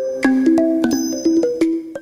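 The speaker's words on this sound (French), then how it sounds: "c'est la deuxième plus grande cloche du monde" Myanmar's giant pagoda bell, five metres high and five across, rings with a series of struck tones, several distinct strikes with long humming overtones that overlap and ring on between hits.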